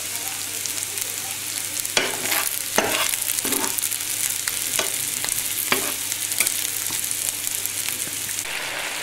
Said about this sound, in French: Je fais revenir les échalotes tranquillou à la poêle